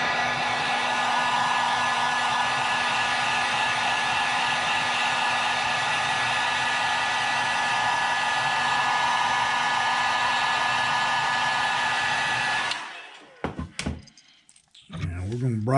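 Heat gun or hair dryer heat-setting fresh paint on a crankbait, blowing loud and steady for about thirteen seconds before cutting off, followed by a few clunks and handling noises.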